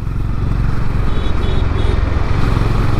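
A Honda CB 350 H'ness motorcycle engine runs steadily up close, its deep, pulsing, thumpy exhaust note holding constant throughout with no voices.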